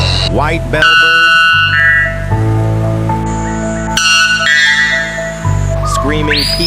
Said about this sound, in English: white bellbird,